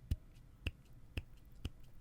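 Four dry finger snaps at a steady, slightly uneven pace, each a sharp click standing out from a quiet room.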